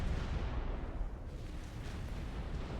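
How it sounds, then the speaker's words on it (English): An explosion in the strategy game Supreme Commander: Forged Alliance rumbles as a deep, sustained, noisy blast with heavy low-end crackle, loud and alone for nearly three seconds. "Such a pretty explosion."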